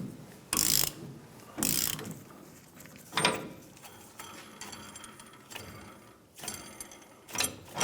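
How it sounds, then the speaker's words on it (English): Press tool pushing a bushing out of a leaf spring on a 2004-2015 Nissan Titan, heard as a series of separate ratcheting clicks and metallic creaks with short pauses between strokes, close up and fairly quiet. "You can press it right out of here with a press tool that looks like the one shown here."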